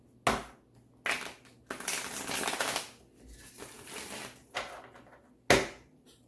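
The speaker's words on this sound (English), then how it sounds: "Okay, one more shuffle." Tarot cards are shuffled by hand in several quick bursts, sharp riffling slaps and rustling flurries separated by short pauses, close and alone with no talking.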